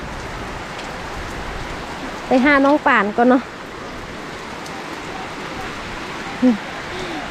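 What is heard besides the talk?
heavy rain during a storm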